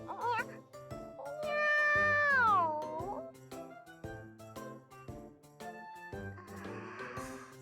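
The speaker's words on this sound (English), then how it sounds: "it's just a cat" A cat in the Nekopara visual novel lets out one long, rising-then-falling meow, clear and close, followed by light musical game notes and soft tinkling.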